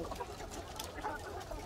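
Chickens cluck softly in a coop, faint scattered clucks and shuffling over a low background hum.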